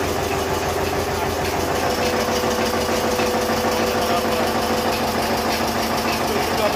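A steady, loud engine drives a flour mill grinding flour outdoors, its low rhythmic thumping and mechanical knock continuing without a break, close by and alone, with no one talking.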